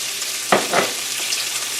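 Chopped onion hits a hot pan with Polish kielbasa, setting off a close, loud crackling sizzle with two sharp bursts of spattering over a steady frying hiss, no talking.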